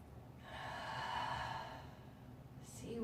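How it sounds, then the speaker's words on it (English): A slow, deep breath during a yoga relaxation exercise, one long soft airy exhale lasting a couple of seconds, near and quiet with no speech. "Deep inhale, little pause, deep exhale."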